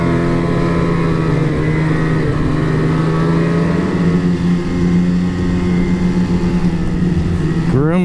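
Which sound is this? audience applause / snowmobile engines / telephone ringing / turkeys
snowmobile engines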